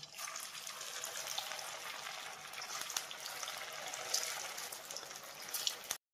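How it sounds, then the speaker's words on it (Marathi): Steady, dense sizzling of sabudana vadas frying in hot oil, an even crackling hiss that continues without pause, then stops abruptly; no talking. "आपण आता वडे तळून घेऊ"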